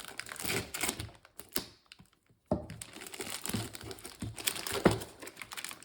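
Plastic wrapping being peeled and cut off a GameBall trackball box, a run of close crinkling and sharp tearing crackles with a brief quiet pause partway through.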